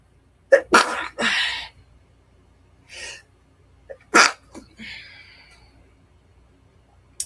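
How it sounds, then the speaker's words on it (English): A single loud sneeze with a sharp intake of breath, followed by a few breathy huffs and a snort, close and otherwise quiet. "Hold on, I gotta sneeze."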